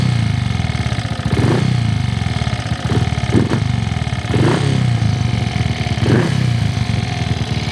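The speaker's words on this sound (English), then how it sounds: "It's even idling now." A Triumph Tiger Cub motorcycle engine idles steadily up close, a continuous throbbing putter with a few brief blips of throttle rising above the even beat, no voices.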